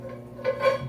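A heavy cast iron pan handled on a stovetop, giving a short metallic clank and scrape with a couple of ringing knocks in under a second, close by and fairly clear.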